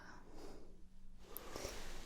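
A person takes a deep sniff of a scent held close during a cranial nerve smell test; one soft, close inhalation rises near the end of the clip, with no talk.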